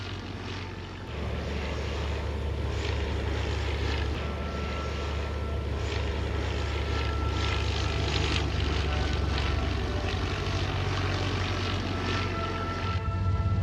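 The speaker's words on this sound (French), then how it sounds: "Le Bristol Fighter et son adversaire allemand d'alors, le Fokker D7, équipés du plus ancien moteur BMW connu dans le monde" Bristol Fighter and Fokker D7 biplanes, one fitted with an early BMW engine, drone steadily overhead at an air show, a continuous propeller engine hum that stays fairly distant and even throughout with no talk.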